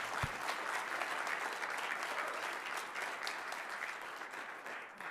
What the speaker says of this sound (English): can you give Robert just a big hand of applause?